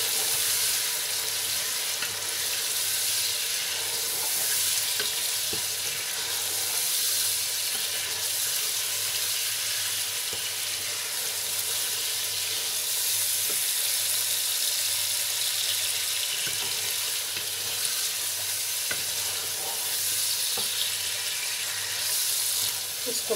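Chicken pulao ingredients with cinnamon and cardamom frying in a pot, a steady, dense sizzle running the whole time with faint scraping and clinks, fairly close and without any talk.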